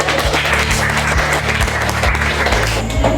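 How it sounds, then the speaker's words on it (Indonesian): A classroom full of students applauding, dense steady clapping that holds at the same level throughout. "tepuk tangan untuk kelompok kita"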